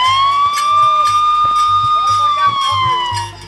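A loud electronic siren wails continuously, its pitch slowly rising and falling, over a rhythmic pulsing beat and scattered sharp knocks close by.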